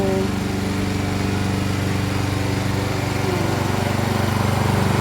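A lawn mower runs steadily close by while cutting grass in a backyard, a constant droning engine hum that holds level throughout with no talking.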